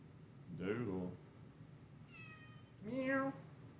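A cat meows twice up close, a drawn-out low meow followed by a higher, brighter one, with faint background noise between.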